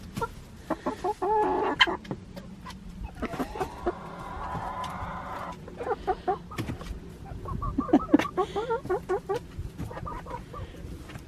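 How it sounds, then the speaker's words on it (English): Chickens cluck steadily while being fed sunflower seeds on a winter farm, with a rooster among the flock. The close, busy clucking comes in bursts and overlapping calls that rise and fall throughout. "I brought you some sunflower seeds."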